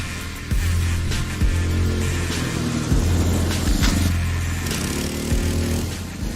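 A go-kart driven by a two-and-a-half-year-old launches off the brake and drifts, its small engine droning loud and close with rising and falling revs throughout, no voices.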